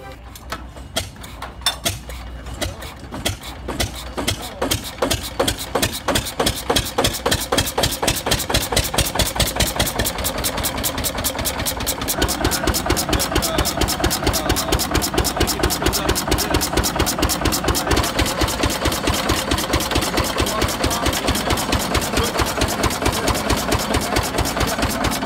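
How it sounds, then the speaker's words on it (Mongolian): A century-old single-cylinder 6-horsepower Cummins engine runs steadily, its rapid, even firing pulses loud and close, picking up pace in the first seconds and then holding a constant knocking beat. "энэ хөдөлгүүрийг одоо 100 жилийн дараа хэрхэн асж байгаа мөн хөдөлгүүрийн чимээг сонсъё"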